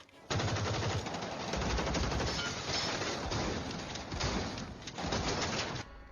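Rapid gunfire crackles almost continuously, dense bursts of shots filling the whole stretch, loud and close with a cinematic sound.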